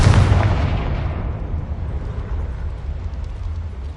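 A Confringo explosion spell from the video game Hogwarts Legacy bursts with a loud, booming blast that rolls off into a long, low rumbling tail.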